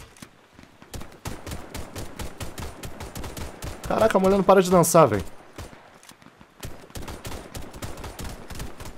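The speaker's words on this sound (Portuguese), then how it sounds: "Quantos tiros tem que dar pra matar com essa Beretta, cara?" Beretta pistol gunfire in the shooter game Warface, a rapid burst of sharp shots clustered in the middle, set among repeated clicky tapping and someone talking over the action.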